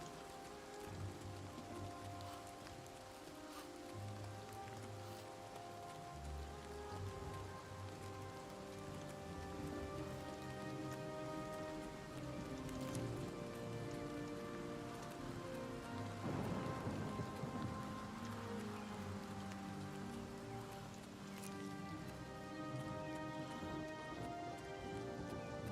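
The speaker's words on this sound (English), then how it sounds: "Always such a great pleasure to run around and listen to the music and the rain." Steady rain pours across a landscape in the video game Oblivion Remastered, a continuous soft hiss beneath layered orchestral game music, with faint low rumbles throughout.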